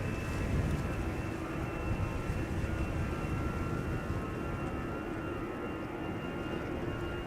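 An airliner departing Amsterdam Schiphol Airport gives a steady, loud low roar with a faint high whine, holding constant without any break or speech.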